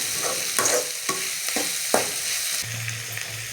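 Garlic and onions sauté in a pan with steady sizzling, interrupted by several sharp stirring scrapes and clacks of a utensil, close and fairly loud.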